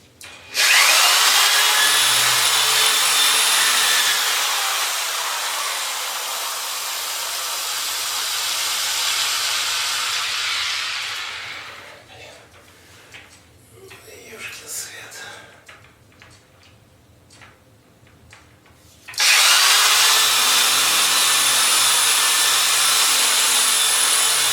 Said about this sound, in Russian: Начинаю сверлить. Сначала сверлю более тонким сверлом.